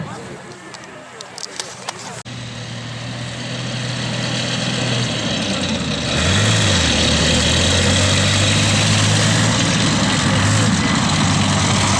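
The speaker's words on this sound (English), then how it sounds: "I think we might be using our BMP as a recovery vehicle right now" A BMP infantry fighting vehicle at a tank farm in Nokesville, its heavy diesel engine rumbling loudly and steadily nearby and swelling as it revs, while people talk in the background.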